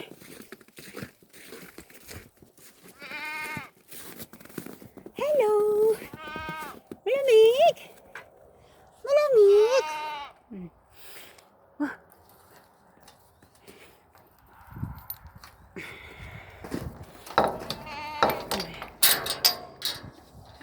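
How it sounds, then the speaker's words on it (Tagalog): Goats bleat several times in wavering, quavering cries, close by on a snowy day in Texas, with a person talking intermittently around them. "tinatawag na po ng aking mga kambing"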